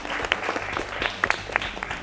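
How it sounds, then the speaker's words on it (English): A quiz-show audience claps for the competing teams, giving fairly loud, scattered applause with some sharp individual claps standing out close by. It continues briefly without talk. "let's applaud for all their efforts"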